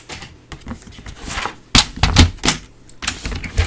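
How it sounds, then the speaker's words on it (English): Paper trimmer slicing through cardstock at a craft table, a series of close, sharp scraping and tapping bursts, loud and irregular, with brief pauses between strokes and no voices. "let me just grab my trimmer and just show you one"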